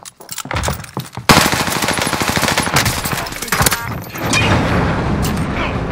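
Dense video game gunfire in a sustained, loud automatic burst that starts after a few scattered shots and continues without a break, with faint voices underneath.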